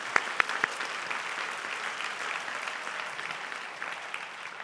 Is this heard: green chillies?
no